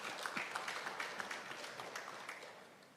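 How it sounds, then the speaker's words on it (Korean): Audience applause at the 2023 World Ocean Forum, a steady patter of many hands clapping at moderate volume that gradually fades out over about three seconds, with no speech. "다시 한번 박수 한번 주시죠."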